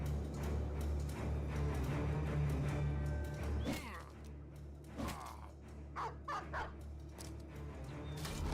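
Dog barks and yips from the video game Battle Brothers during a turn-based battle, several short sharp barks and whimpers in the second half over a low game hum, with a voice talking in the background.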